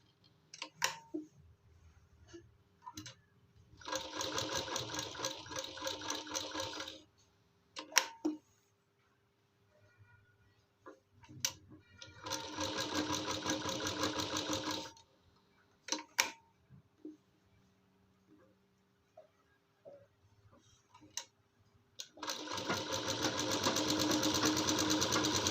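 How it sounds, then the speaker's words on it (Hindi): Sewing machine stitching a small girl's kurti: three steady runs of rapid mechanical whirring, each a few seconds long, separated by quiet gaps with scattered clicks and fabric handling, close and clear. "इसी तरीके से पूरा शेप में सिलाई लगाना है।"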